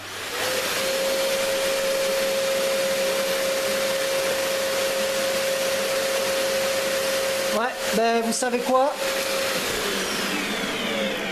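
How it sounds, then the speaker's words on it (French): A vacuum cleaner runs on a Hyundai HPS 1100 portable power station with a steady, loud drone and a sustained high whine. Near the end someone briefly talks over it. "Donc, je rebranche l'aspirateur."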